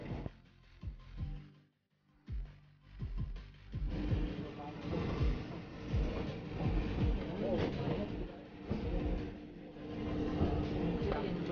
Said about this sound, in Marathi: आता ट्रेन सुटलीच आहे.